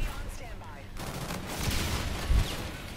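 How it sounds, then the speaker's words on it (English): Gunfire in a shooter video game, bursts of shots against a busy game soundtrack, with a louder impact near the end and some voice in the mix. "we get shot in the back"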